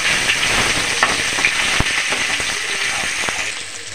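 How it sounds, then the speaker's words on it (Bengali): Ground garlic paste hits hot oil with a loud, close sizzle, scattered sharp crackles and pops running through a steady frying hiss. "রসুনটা দিয়ে দেবো। রসুনটা ভেজে নেব একটু।"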